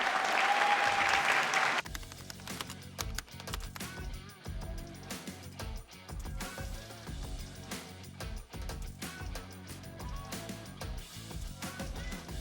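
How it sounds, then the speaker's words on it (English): Audience applause at a live market-outlook seminar, a dense sustained burst of clapping from a large crowd that starts loud, then gives way to music with a steady beat, with the clapping fading underneath. "Give yourself a big round of applause."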